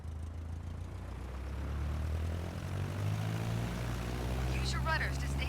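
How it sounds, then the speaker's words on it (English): Small propeller airplane engine in Microsoft Flight Simulator 2020 throttling up to full power for takeoff, a steady droning hum that grows louder, with a voice speaking briefly near the end. "Apply full power and I'll walk you through the takeoff as we go"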